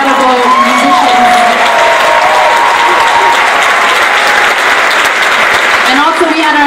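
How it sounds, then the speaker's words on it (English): An audience at a 2015 Oakland School for the Arts graduation claps for the musicians in a sustained, dense round of applause with scattered cheers and whoops throughout. "Can we please give a rousing round of applause for the incredible musicians?"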